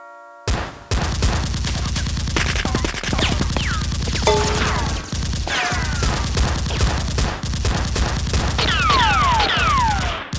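Toy Nerf guns fired in a play fight, rapid bursts of repeated mechanical shots with clattering hits and a few sharp squeaks, loud and close, continuing without pause for about ten seconds.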